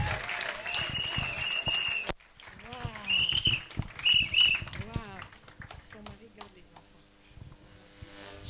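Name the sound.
applause for the testimony in church meeting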